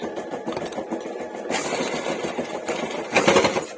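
A sewing machine stitches a blouse back design. Its fast, even mechanical rattle runs close and continuous, with a short louder burst near the end.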